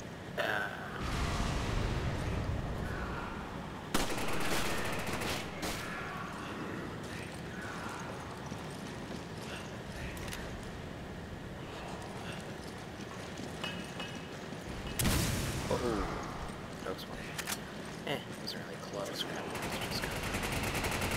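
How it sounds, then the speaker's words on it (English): Gunfire from the video game Resident Evil 5, with repeated shots scattered through a busy game soundscape, sharper bursts standing out near the start and around the middle, with voices and other action sounds mixed in. "we were shooting people with guns"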